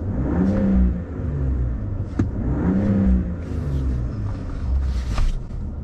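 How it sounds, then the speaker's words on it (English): A 2025 RAM 3.0L Hurricane twin-turbo inline-six high output engine revving close by, with a couple of rising and falling throttle blips over a rumbling idle and some background noise toward the end. "Now let's go ahead and do a quick rev"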